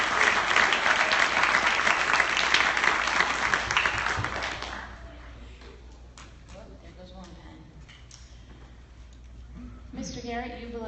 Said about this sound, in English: why don't we have a nice round of applause before we can't do it again